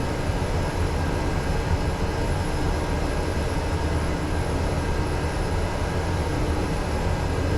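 Twin turboprop engines of a DHC-6 Twin Otter in the MSFS 2024 flight simulator, a steady loud broadband drone with a constant whine, holding even throughout as the aircraft accelerates, with no talk.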